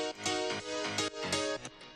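Layered piano part in an electronic dance production plays four quick rhythmic chord stabs, bright and full, over a short bar.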